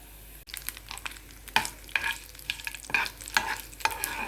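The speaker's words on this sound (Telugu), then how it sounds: "పోపు దినుసులన్నీ వేసి వేయించేసేయండి" Tempering spices frying in a pan for a mint chutney, a close crackling sizzle broken by several sharp stirring scrapes at an uneven rhythm, heard without speech.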